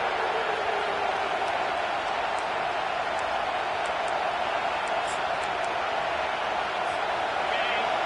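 Home crowd roaring at a college football game as the defense tries to get off the field on third down, a steady wash of stadium noise with faint cheers and whistles throughout.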